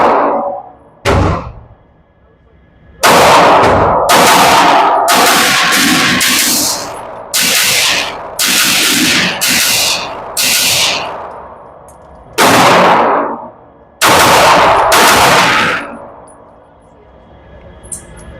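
Pistol double taps at an outdoor range striking steel targets with Kimber Eclipse, Kimber Coyote, Romulus or MAC9 handguns: loud, close cracks fired in quick pairs, each followed by a ringing metallic clang, with short pauses between the strings.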